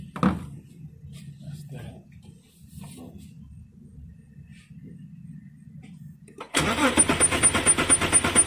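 An Audi Q7 engine cranks with low, uneven churning for several seconds, then catches and roars into a loud, rough running idle near the end, heard close up.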